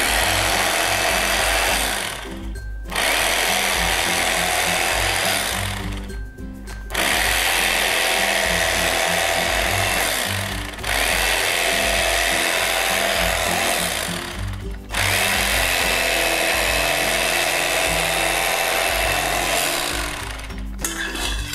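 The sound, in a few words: electric knife slicing Sicilian braciolone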